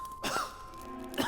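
A single short, rough cough with a throat-clearing quality, close and fairly quiet, followed by a second brief rasp a moment later against a faint steady background tone.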